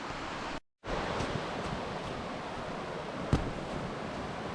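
A swollen river rushes in a steady, loud broadband roar heard from its bank, with a short dropout near the start and a brief knock later.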